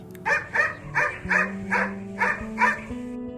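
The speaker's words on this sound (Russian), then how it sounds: "к величайшей радости их в отдалении почудился лай" Dogs barking, a series of seven evenly spaced barks with a low steady tone beneath, sounding moderately close rather than far off.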